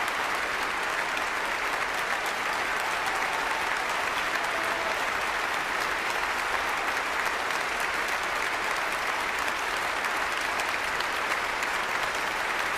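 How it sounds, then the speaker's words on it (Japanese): Thunderous, sustained applause from a concert audience for blind pianist Nobuyuki Tsujii in Vienna, dense and even throughout with no break or voices. "再び聴衆は辻井さんに割れんばかりの拍手を浴びせました。"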